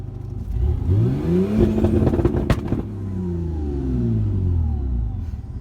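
The engine of a stock 2004 Subaru WRX, set up with launch control and anti-lag, is revved hard and held, giving a loud, sustained, rising and falling roar with sharp crackles around the midpoint.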